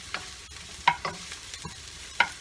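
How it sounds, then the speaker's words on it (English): Ginger cooking in a pot for tinola, chicken and green papaya soup, with a spoon stirring: scattered scraping clacks and knocks over a soft low sizzle, close by, no talk. "You have to cook the ginger first so it releases the flavor."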